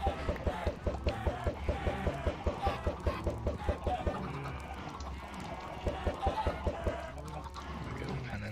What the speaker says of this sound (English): the rest of these we will throw to make more chickens